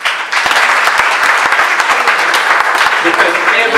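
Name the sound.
audience applause at graduation ceremony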